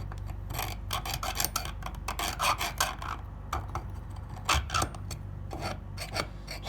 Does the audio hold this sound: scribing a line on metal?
yes